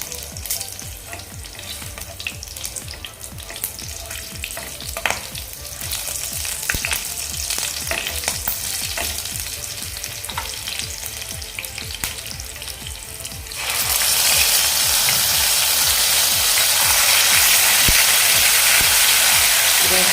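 Onion paste goes into hot oil for Amritsari chole with green chilies over a medium flame. A steady close crackle of frying and stirring surges into a loud, dense sizzle partway through.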